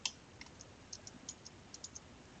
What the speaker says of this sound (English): I just right mouse click and hold